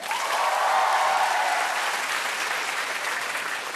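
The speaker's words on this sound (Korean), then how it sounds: "박수 한번 보내주세요" A studio audience at a Korean comedy show bursts into loud, sustained applause, a dense wash of clapping that swells early and then tapers slightly over several seconds, with no voices on top.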